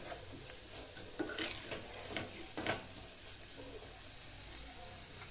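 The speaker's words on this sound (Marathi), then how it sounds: "छान सगळं असं मिक्स करून घ्यायचं. कारण आपल्याला याला तेलाची तर्री येते छान मस्त." A spoon stirs hot oil tempering for a roasted eggplant bharit, with irregular scraping strokes over a continuous soft sizzle in a home kitchen.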